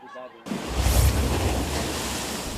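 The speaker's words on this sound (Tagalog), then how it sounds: "Malalakas at malalaking alon ang patuloy na humahampas sa dalampasigan sa Apari, Cagayan." Strong, large waves crash continuously on the shore at Aparri, Cagayan during a typhoon, a loud roaring surf with heavy wind after a brief quieter opening.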